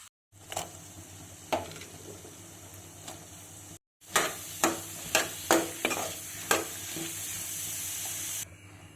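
Onions and dosakaya pieces frying in a hot pan, a steady close sizzle broken by a brief pause, then a series of sharp stirring scrapes and clacks over the continuing hiss.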